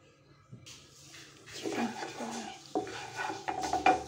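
Marinated chicken goes into a lightly oiled kadhai and is stirred, with scraping utensil clatter and a faint sizzle building over a couple of seconds, growing louder toward the end.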